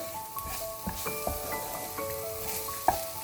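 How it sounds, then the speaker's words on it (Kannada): Smoky burnt garlic noodles are stirred and tossed in a hot pan with pepper powder, giving a steady close sizzle broken by soft scraping strokes and the odd sharp clink of a utensil. "ಇದಿಷ್ಟು ಚೆನ್ನಾಗಿ ಮಿಕ್ಸ್ ಮಾಡ್ಕೊಳ್ಳೋಣ"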